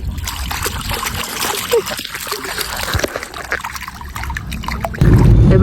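Feet splashing and trickling in a pond inside the Kondhana Buddhist caves near Pune, a continuous close watery slosh under ongoing talk, growing louder at the end.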